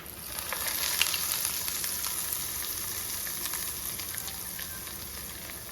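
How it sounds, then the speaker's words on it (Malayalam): Hot tempering with curry leaves poured into coconut chutney for Kerala-style wheat dosa, a bright crackling sizzle that flares up close and loud at first, then settles into a steady fizzing hiss. "നമ്മുടെ ചമ്മന്തിയിലേക്ക് നമ്മുടെ താളിപ്പ് ഒഴിച്ചു കൊടുക്കാം"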